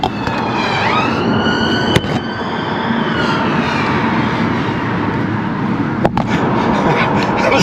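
A police siren wails over loud road and engine noise from inside a car, its pitch sweeping as the vehicle passes close by, with a couple of sharp knocks.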